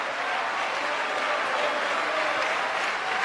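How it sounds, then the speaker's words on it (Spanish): A church congregation breaks into applause during a sermon, a dense and steady burst of clapping from many hands that holds evenly through the short stretch. "demos un aplauso al Maestro ahora"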